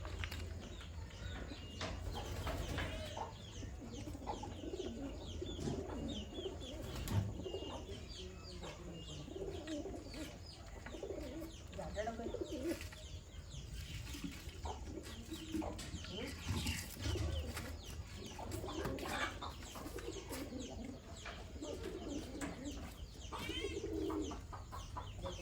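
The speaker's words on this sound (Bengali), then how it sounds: "আর পায়রাগুলো তো জল খাবার খাচ্ছে।" Pigeons coo softly in a loft while feeding, with low, rolling calls and some clucking-like sounds repeating throughout over a faint, steady background.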